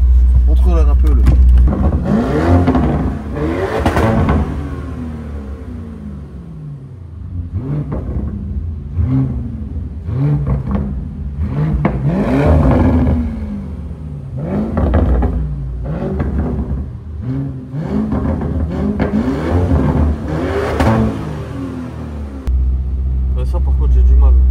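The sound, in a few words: Lamborghini Urus Mansory engine revving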